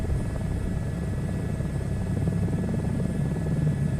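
A helicopter flies in a VR flight simulator game, its rotor and engine giving a steady, close, unbroken drone with no talk over it.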